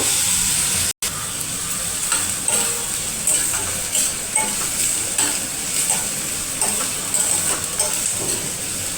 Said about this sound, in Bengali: পেঁয়াজটাকে আমি একটু ভাজা ভাজা করে নেব।